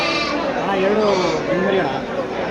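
Bandur cross sheep lambs, two-month-old males, bleat repeatedly at close range with wavering cries, over a steady farmyard background with people talking nearby.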